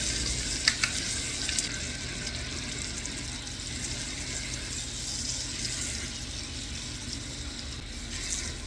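Tuna steaks sizzling in a pan while being basted, a steady hissing fry with faint scraping and a couple of small clinks, fairly quiet and continuous with no voices.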